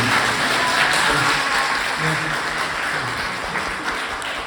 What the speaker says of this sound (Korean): 함께 해주신 여기 네 분께 크게 박수 한번 부탁드리겠습니다